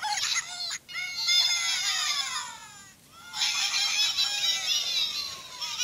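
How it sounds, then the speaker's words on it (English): High, wavering electronic bird cries from a giant black plush bird toy, three sweeping squeals in a row, loud and close with short gaps. "The giant black bird makes noise."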